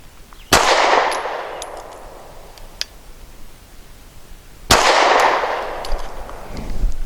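Two sharp, loud pistol shots from a Walther PPS M2 firing Norma MHP ammunition, several seconds apart, each a sudden crack followed by a long ringing decay on an outdoor range.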